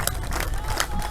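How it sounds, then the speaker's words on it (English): Hometown fans cheer at an ultimate frisbee final between MTB and SLIPDIISC, a brief burst of crowd noise with scattered claps and shouts. "Looks like the SLIPDIISC team is trying to start a cheer here, and they're getting the fans into it here."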